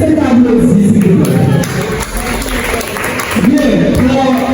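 Audience applause at a Bible quiz contest: loud, close clapping from a crowd, mixed with voices, dipping briefly in the middle and then swelling again.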